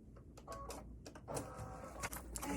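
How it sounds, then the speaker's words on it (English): A home embroidery machine stitches a placement line on hooped fabric, making quiet, uneven mechanical clicking and whirring with faint tonal motor whines. "So I've put my embroidery hoop in my embroidery machine and I'm ready to stitch my placement."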